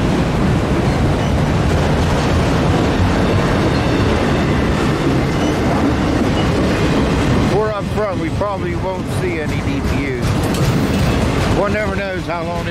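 A long freight train with autorack cars rumbles steadily past up close, with rolling wheel noise and occasional metallic squeals from the cars; a voice speaks briefly near the end.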